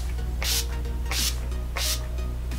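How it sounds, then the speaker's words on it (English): Three quick hissing spritzes of makeup setting spray, evenly spaced, close by against a steady low background hum. "I'm going to use the Urban Decay Makeup Chill Setting Spray"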